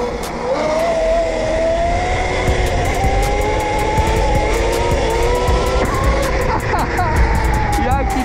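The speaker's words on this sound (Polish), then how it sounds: "Ciekawa charakterystyka tego silnika jest naprawdę bardzo głośny jest, wyraźny" A loud Warszawa car drives on, its engine note climbing steadily close up while tires squeal and scrub, with talk over the noise.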